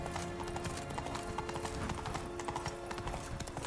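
Steady clip-clop of horse hooves at a trotting rhythm, with a brief whinny over a constant background hum, in the video game The Witcher 3: Blood and Wine.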